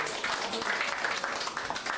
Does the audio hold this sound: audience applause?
yes